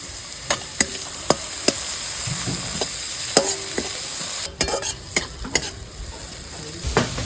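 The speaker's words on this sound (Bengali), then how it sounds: "এই গাজরের সাথে সবজিগুলো একটু ভাজা ভাজা করে নিয়েছি" Carrots and other vegetables sizzle steadily as they stir-fry in a pan while a utensil scrapes and clacks against it in irregular strokes, close and fairly loud.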